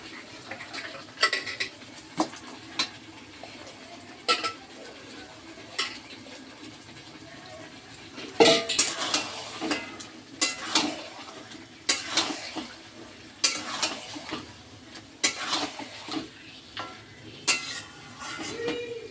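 Mutton pieces are tossed into spice masala frying in a pot, giving a soft sizzle with repeated clanks and scrapes of a spoon against the pan in irregular bursts, close and moderately loud.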